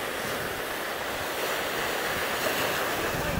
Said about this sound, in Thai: ลมก็แรงแรงพี่น้องเอ้ย